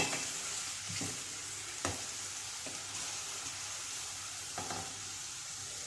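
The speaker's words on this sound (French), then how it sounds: "Je vais mélanger avec les oignons." Onions stirred and mixed in a hot pan, a steady close sizzle broken by a few scraping spoon strokes, with no voices.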